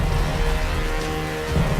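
Steady rain falls in Rise of the Tomb Raider, a dense continuous hiss of drops with a low rumbling undertone, even and unbroken throughout.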